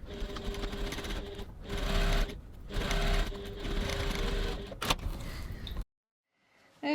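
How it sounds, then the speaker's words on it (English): A sewing machine runs a steady stitching burst along a 6mm seam on a crossbody bag pocket, pausing briefly twice before stopping abruptly, close and fairly loud with no voices. "So now we're stitching using a 6mm 1/4 of an inch seam."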